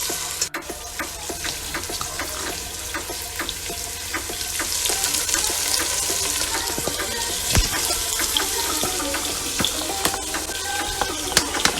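Water is splashed into fish cooking in sauce in a pan, Haitian Creole style; close, continuous sizzling and bubbling with a running-water hiss and occasional clicks of utensils, and no voices.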